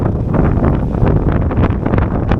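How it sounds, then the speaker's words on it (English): Strong wind roars steadily and loudly on a bridge in Okinawa, buffeting the microphone throughout with no letup. "it is really windy."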